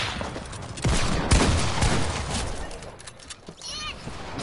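Rapid SMG gunfire in a video game, with sustained bursts of crackling shots at moderate loudness alongside other game noise and people talking.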